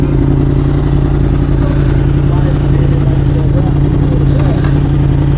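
A Yamaha R1 sport motorcycle idles close by, a steady loud low throbbing hum that runs unbroken and alone throughout.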